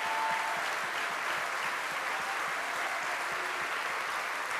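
Sustained applause from a crowd at a French ecologist party political speech, a dense steady wash of many hands clapping at moderate distance without a break, no voices rising above it.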